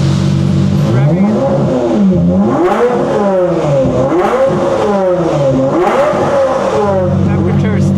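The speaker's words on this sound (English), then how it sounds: "revving" A cold Ferrari engine revving repeatedly, pitch rising and falling in several loud swells over a steady idle, up close.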